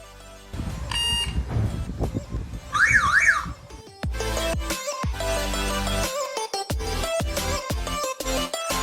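A loud, shrill alarm from a phone's wake-up app cycles through rapid electronic beeps and warbling siren-like tones in shifting patterns, close and piercing.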